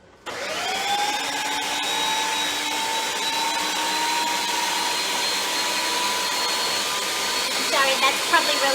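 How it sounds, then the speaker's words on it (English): A blender runs continuously at high speed, pureeing a thick mixture of eggplant, mushrooms, chorizo, bacon, tomatoes, jalapenos and onions for keto refried beans, a loud steady whir with a rising pitch that shifts near the end. "I'm going to go puree it real quick."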